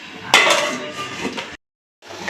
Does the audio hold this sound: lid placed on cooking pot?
yes